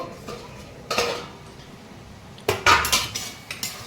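A metal lid comes off a pot of simmering lentils and cucumber with two sharp clanks and rattles close by, followed by lighter clinks of metal on metal.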